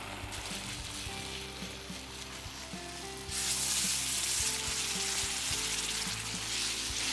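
Chicken keema with mint leaves fries in a pan, a close, continuous sizzle that turns brighter and louder partway through, with faint stirring knocks and no talk.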